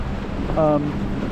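Sea waves splash against rocks beside a coastal trail at Hac Sá Long Chao Kok in Coloane, Macau: a steady, close wash of surf blurred by wind noise, with a brief voiced sound in the middle.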